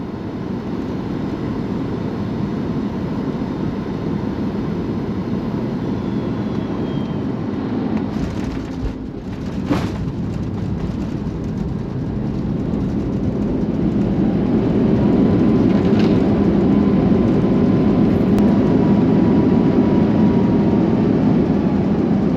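Steady, loud cabin roar inside a Boeing 737 MAX descending toward Chennai, a dense broadband rumble with a brief disturbance midway and a slight swell in the low drone near the end.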